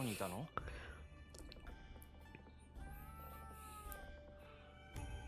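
Cats meow and caterwaul in the video game Ghostwire Tokyo, several plaintive cries in a row against a quiet game backdrop with music tones, while someone talks over them.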